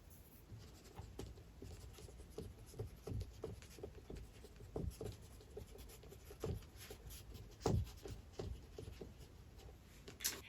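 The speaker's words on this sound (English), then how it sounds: "Let's draw some leaves on the ground." A marker draws leaves on paper, making soft, quiet scratchy strokes. Short squeaks and rubs come in an uneven rhythm, heard close up.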